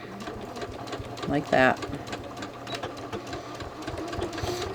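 A sewing machine stitches an invisible zipper in a short whirring burst lasting about half a second, close and clear, while someone talks over a steady low room hum before and after.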